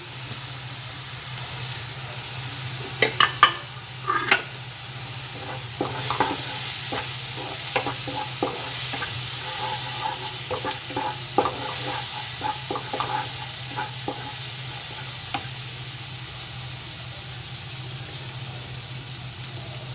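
Spices and green chilies with salt and a pinch of sugar sizzle steadily in a pan for a spicy tengra fish curry, with repeated close clinks and scrapes of a spatula stirring throughout.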